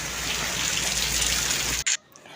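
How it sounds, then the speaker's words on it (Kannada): Heavy rain pouring down in a steady, dense hiss close by, cutting off abruptly near the end. "ಇಂಥ ಮಳೆ."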